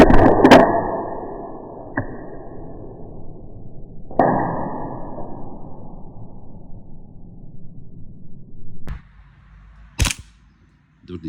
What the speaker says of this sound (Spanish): Dos disparos hecho de golpe.